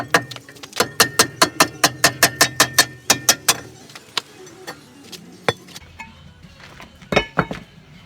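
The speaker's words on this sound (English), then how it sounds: "Rubber mallet." Repeated sharp metallic knocks from a rubber mallet striking the front brake rotor of a 2015 Nissan Pathfinder, a fast steady run of about a dozen close hits, then scattered single taps and clinks.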